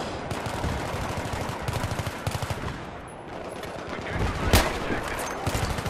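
Automatic and rapid gunfire from a Battlefield 3 multiplayer match, dense bursts of shots with a loud single blast near the end, running continuously under the chaotic game audio.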